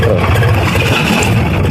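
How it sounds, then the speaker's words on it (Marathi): A tractor engine runs steadily for field work during paddy sowing, a loud, continuous low rumbling drone that holds even from start to finish with no voices. "2:40 ट्रॅक्टर सुरू केलेला आहे."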